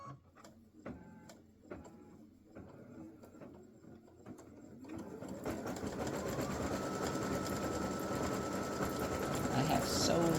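Embroidery machine stitching the white top section of a candy cane applique on a t-shirt, starting after a few light taps and then running as a steady rapid whirring drone that builds and holds.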